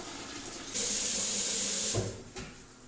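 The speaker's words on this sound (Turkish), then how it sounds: "tenceremize tekrar suyumuzu koyduk, temiz su." Steady hissing rush of clean water pouring into a cooking pot for about a second, then stopping, followed by a couple of faint clanks.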